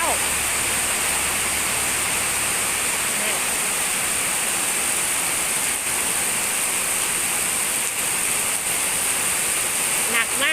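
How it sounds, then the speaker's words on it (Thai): Constant heavy downpour outside a house during a run of storms hisses loudly and evenly, a thick wash of rain noise with faint background sounds beneath it. "วันนี้มาอัปเดตให้ดูฝนตกอีกแล้ว"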